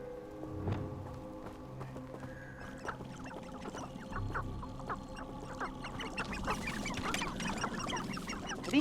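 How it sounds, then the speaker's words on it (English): Chickens clucking in Hogwarts Legacy, on a forest edge by the Forbidden Forest, a busy chorus of short clucks and squawks over a steady game ambience. "Are these chickens? I believe they are."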